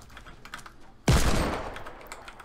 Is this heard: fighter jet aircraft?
no